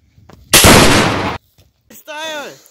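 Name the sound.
gunshot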